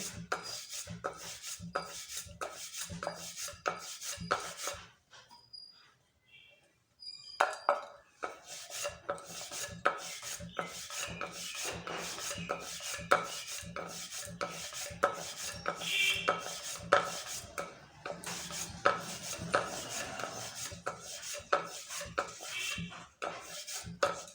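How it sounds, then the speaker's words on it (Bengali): Hand-cut pieces of rice-flour chusi pitha dough give a quick series of soft, close taps and scrapes on a board, continuing steadily with a short pause partway through. "এভাবে আমি সব চষিগুলো কেটে নেব"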